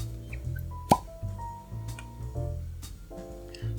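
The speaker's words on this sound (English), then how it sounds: "I kind of expect a bigger cork pop." A cork is pulled from a $200 bottle of Woodford Reserve Double Double Oaked bourbon, giving one sharp, modest pop close by over a low room hum, with faint clinks afterward.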